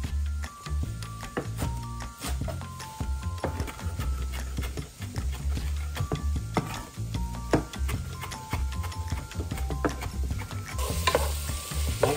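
Soft onions sizzle in a pan for chili while a spoon stirs them in steady scraping strokes, with a low clattering rhythm beneath a constant hiss; close and fairly quiet, no voices.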